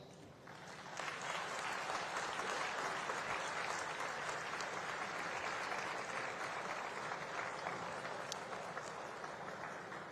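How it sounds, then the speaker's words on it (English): Graduates at the IIT Madras 63rd convocation ceremony giving a sustained round of applause, a large hall filled with dense, even clapping that swells in after a second and continues steadily. "Graduates, I request you to rise and give your parents, your families, your teachers, and your mentors a warm round of applause."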